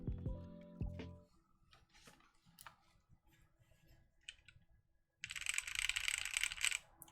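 Rapid clacky keystrokes on a Cycle8 mechanical keyboard built without foam, a close, irregular run of sharp clicks. A loud tonal burst opens the passage, and a dense hissing wash rises behind the typing near the end.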